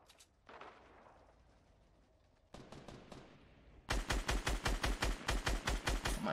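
Gunfire in Fortnite Battle Royale, starting with scattered single shots and a lull, then a sharp rapid burst of loud, close, evenly spaced shots in the final seconds.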